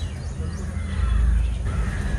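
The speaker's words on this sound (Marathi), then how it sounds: "खूप पक्ष्यांचा आवाज येतो मस्त एकदम" Crows caw in the distance, faint and intermittent over a low, steady outdoor rumble.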